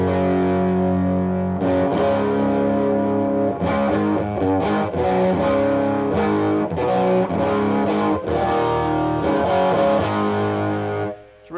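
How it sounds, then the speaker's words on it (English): Electric guitar played through a Fender Hammertone Fuzz pedal with the fuzz set low, giving warm, mildly distorted chords strummed in a loose rhythm for about eleven seconds, up close and alone, ending with a short dip. "So I'm going to bring the fuzz up to about 1 or 2."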